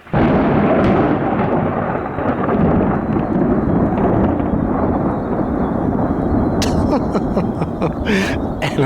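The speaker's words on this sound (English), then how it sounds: "And a little bit of thunder to go with it." Deep rolling thunder from a thunderstorm moving in over woodland during the sika deer rut, a loud continuous rumble lasting throughout with a brief sharper crackle near the end.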